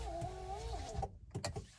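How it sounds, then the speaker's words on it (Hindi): A car's power window motor strains as it raises the glass under heavy load, giving a steady close whine that wavers in pitch before stopping, followed by a few soft clunks. "अब चढ़ने में जैसे गाड़ी पे कितना लोड पड़ रहा हो"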